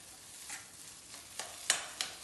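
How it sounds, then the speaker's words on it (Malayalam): A spoon stirs a potato, onion, green chilli and ginger mixture in a pan over low heat, giving soft, quiet scraping strokes, with a few sharper scrapes near the end. "ആലു എടുത്തിട്ട് ഇതിലേക്ക് നല്ലോണം യോജിപ്പിക്കും"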